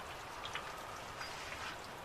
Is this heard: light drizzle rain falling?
yes